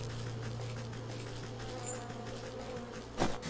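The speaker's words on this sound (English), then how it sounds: "Bees. Generally well-mannered, but be quite hostile when irritated." Bees buzz softly in the video game Wytchwood, a steady low droning hum with fluctuating wingbeat tones, fairly faint, with a brief brighter rustle near the end and no talking.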